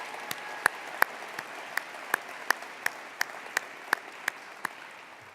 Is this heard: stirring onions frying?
no